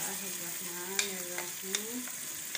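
Yogurt seasoned with chaat masala is stirred into sizzling keema with spinach, giving a steady frying hiss punctuated by a few sharp spoon taps, with a soft melody playing in the background.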